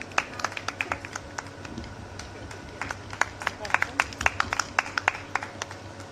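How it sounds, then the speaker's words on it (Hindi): Audience applause welcoming a guest at a Dadhichi Jayanti aarti-plate decorating competition's closing ceremony: scattered, uneven claps rising into a moderate crowd ovation over a steady hum, with a low voice faintly underneath. "जोरदार तालियों के साथ स्वागत हो।"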